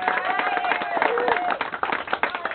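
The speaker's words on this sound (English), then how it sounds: "Everybody give him a big round of applause there." An audience at a football awards ceremony claps for an honoree, brisk applause mixed with cheering voices and someone speaking over it, thinning out and growing patchy toward the end.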